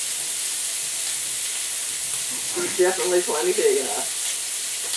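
Beef and pork steaks sizzle on a grill, a steady broadband hiss running throughout, with people talking briefly over it.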